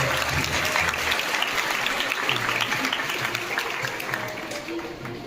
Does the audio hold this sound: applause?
yes